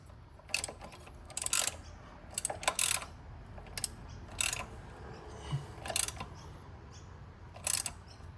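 Ratchet tightening the pitch stop mount bolt on a Subaru WRX, with several short bursts of rapid clicking separated by pauses, close and clear over a quiet background.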